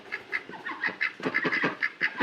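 Ducks quack repeatedly at close range in a rapid, uneven series of nasal calls, several birds overlapping, with no talking.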